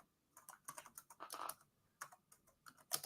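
Fingers type on a computer keyboard in quick irregular bursts of close, clicky keystrokes, pausing briefly between clusters of presses.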